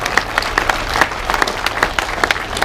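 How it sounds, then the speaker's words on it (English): A big round of applause at a car event, dense and energetic with many hands clapping at once and a steady, lively roar of claps throughout. "Can we have another big massive round of applause?"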